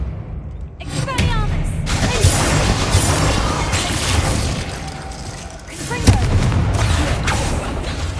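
Blasting Confringo spell bursts in Hogwarts Legacy, a loud booming explosion near the one-second mark followed by dense crackling combat noise, with another heavy blast around six seconds, all under continuous game action.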